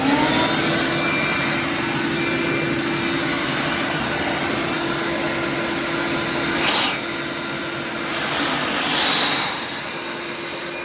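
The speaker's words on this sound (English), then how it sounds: "I'm going to get that vacuumed out of there right now." A vacuum cleaner clearing mouse mess out of an old Yamaha Virago XV250 V-twin motorcycle: a loud, steady droning whine held throughout, its pitch and strength shifting slightly as the nozzle moves, with no talk.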